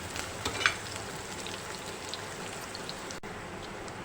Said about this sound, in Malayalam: പകുതി സവാള അരിഞ്ഞത് ഇട്ട് കൊടുക്കാം. എന്നിട്ട് നമുക്ക് ഒന്നിത് വാട്ടിയെടുക്കാം.